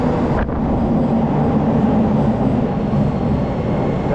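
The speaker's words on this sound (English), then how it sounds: "The train is already on its way right here." A train pulls into a station platform in Akihabara, Japan, as a steady, loud rumbling roar that fills the whole span without pauses.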